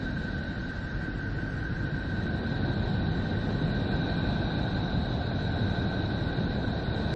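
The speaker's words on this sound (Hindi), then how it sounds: "ये जो भी आप सुन पा रहे हैं ये नेपच्यून की आवाज है" Neptune's electromagnetic vibrations turned into sound, resembling ocean waves: a steady, even rush of broadband noise with faint, constant high whining tones running through it for the whole stretch.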